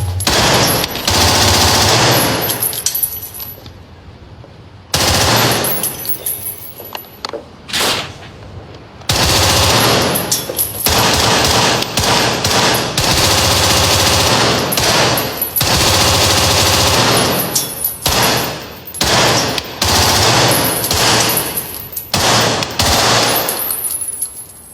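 Machine gun fire in an action movie rattles almost nonstop in loud, dense bursts, with short gaps between volleys and heavy sustained gunfire dominating throughout, no talking.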